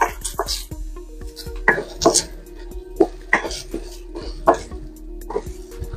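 Potatoes stirred with onion and garlic in a pan, a spatula knocking and scraping against the metal in an irregular series of sharp clacks and short scrapes, close up and without talk.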